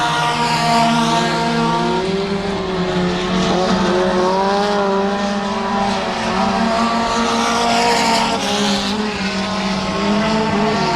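Mini stock race cars racing on a dirt track at Genesee, engines revving loudly and continuously with shifting pitch as cars pass, occasional tire noise, no talk over it.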